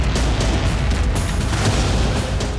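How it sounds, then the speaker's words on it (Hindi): A bomb planted on an Israeli Merkava tank in Gaza City goes off as a loud, dense roar that fills the whole stretch without letting up. "इसके बाद एक जोरदार धमाका होता है और टैंक तबाह हो जाता है।"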